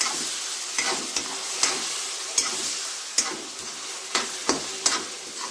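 Spoon stirring tomato gravy for paneer masala in a pan, a soft steady sizzle with repeated light scraping taps against the pan at an irregular rhythm, close and alone without talk.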